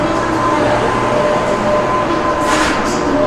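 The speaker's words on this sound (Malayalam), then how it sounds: "കൊറിയൻ ട്രെയിനിൻ്റെ ഫ്രണ്ട് സൈഡാണ് ഈ കാണുന്നത് കോറയിൽ എന്നാണ് കൊറിയൻ റെയിലിനെ പറയാറ്" Korail KTX high-speed train in Korea gives a steady, close rumble of rolling rail noise with a continuous hum throughout and a brief brighter hiss late on.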